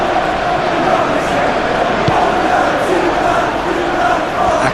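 A packed football stadium crowd at a Manchester derby roars in a constant dense wall of noise with rising chants and cheers, heard from the broadcast position.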